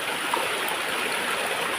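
Steady broadband rush of a stream spilling down Lel Falls, continuous and fairly close, with no breaks or talk over it.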